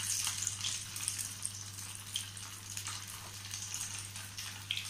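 Curd rice fritters fry in hot oil, giving a continuous crackling sizzle with fine bubbling over a low, steady hum.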